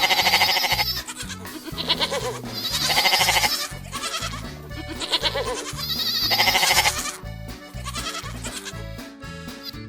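Goats on a farm herd of about sixty bleat repeatedly, several loud nasal calls overlapping in rough waves over a steady pulsing background, close and with no talking.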